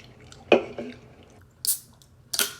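Limited edition MOA burger flavoured Pringles chips are crunched up close in a few sharp bursts, each bite followed by softer chewing, with short quiet gaps between.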